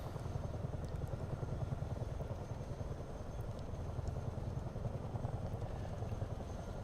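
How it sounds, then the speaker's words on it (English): Chinook helicopter flying in Microsoft Flight Simulator 2024, heard as a steady, close rotor thump under a continuous engine drone with no talk. "Some stellar control over this Chinook here down in this little"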